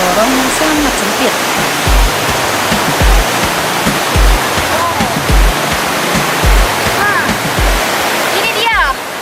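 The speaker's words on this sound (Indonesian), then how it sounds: "di mana nanti di dalam sana itu terdengar suara air terjun ya" A waterfall pours inside a narrow, cave-like valley between two tall cliffs, a loud, continuous roar that fills the space, while someone speaks over it and repeated low thumps recur about once a second.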